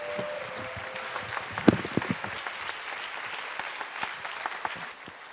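Youth worship congregation applauding to welcome the pastor, a steady, fairly soft patter of many hands with a few sharper claps standing out.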